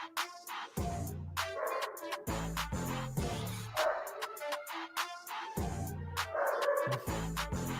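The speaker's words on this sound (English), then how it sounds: "my dog's barking." A pet dog barks in bursts at home, several sharp close barks and yips in irregular clusters with quieter gaps between them, no speech over it.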